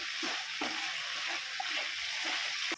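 Tomatoes sautéing in a hot pan for a sundaikai kulambu, giving a steady close sizzle with a few soft stirring clinks and scrapes, no voices.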